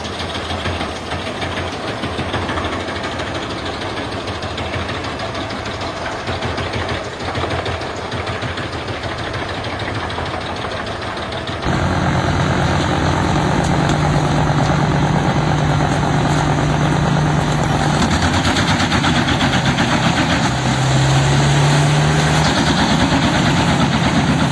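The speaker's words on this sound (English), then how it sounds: "The green wood chipper works steadily and tirelessly, a vital part of the logging operation at the forest site." A Petzolato wood chipper runs at a forest logging site, a loud, steady mechanical drone with a rhythmic knock that grows heavier and deeper about halfway through.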